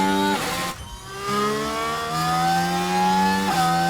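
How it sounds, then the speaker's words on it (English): A Renault Formula 1 engine in the video game F1 Manager 24 revs high and whiny, dropping briefly between gear shifts, then climbing again in a steady rising pitch; no talking. "listen to this engine. Alright, this is the Renault, right?"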